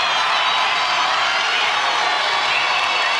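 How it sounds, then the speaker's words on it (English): Basketball arena crowd roaring and cheering in the final seconds of a Gonzaga at San Diego men's college game, a dense sustained wall of noise that stays loud and even throughout. "And here comes the crowd."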